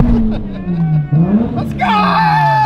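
A 1000hp Corvette Z06's engine blips and swells in pitch, up close and loud, while people talk and chatter over it.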